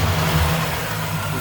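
LT1 V8 in a 1994-1996 Impala SS being blipped, a steady low engine rumble with a slight rise in revs, close and continuous throughout.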